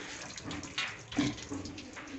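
A water tap left running in a small shop, a steady rushing flow with faint splashing and a few brief louder spatters.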